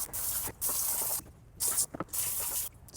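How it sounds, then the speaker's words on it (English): A spray of water hisses against a car transmission in short, repeated bursts with brief pauses between them, close by and fairly quiet. "so now I'm gonna spray with water."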